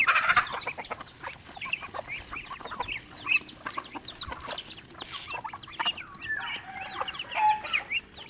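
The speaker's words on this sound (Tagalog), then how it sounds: "pinapakain natin ang mga alagang mga manok at pato tuwing umaga dito sa farm" Chickens and ducks cluck and chatter around feed on a farm during morning feeding, a busy overlapping flock of calls at close to middle distance with no talk.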